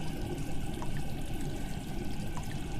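Steady pouring water in the Roblox game Among Us, with a low, full rush and faint trickling, continuous and close, no voices.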